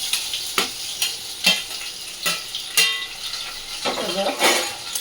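Ingredients and spice masala fry in hot oil with a close, crackling sizzle, punctuated by several sharp scrapes and taps of a utensil against the pan, no talking.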